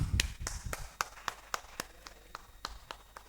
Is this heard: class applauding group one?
yes